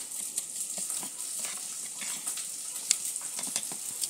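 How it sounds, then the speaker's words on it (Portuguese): Eggs fry in a pan with a steady, soft sizzle and scattered crackles and pops, a close, continuous hiss with no voices over it. "Agora eu vou fritar o outro. Pronto. Tô fritando já esse."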